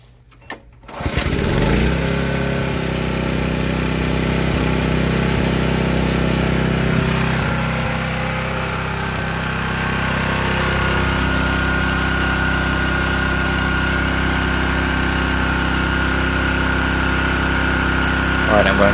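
Portable generator engine idling steadily and close by, a constant mid-pitched hum with vibration after a brief start at the beginning, running on alone for the whole stretch.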